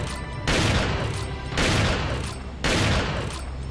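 Three loud, booming shotgun blasts from the Resident Evil 4 video game come at evenly spaced intervals, each followed by a brief decaying rumble.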